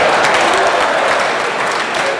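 A crowd claps during a political speech, a dense, loud wash of applause that continues steadily throughout.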